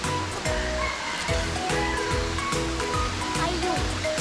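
Waterfall at Khao Kheow Open Zoo in Thailand, a steady, loud rush of falling water that fills the whole clip with an unbroken roar.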